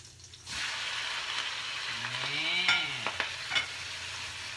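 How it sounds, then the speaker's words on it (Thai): Shellfish and garlic stir-fried in a pot for a Thai seafood dish give a steady sizzle with scraping stirs and clattering shells, close and continuous. "ผัดไปนะคะ ดูสิดูหอยเต็มหม้อเลยเนี่ย"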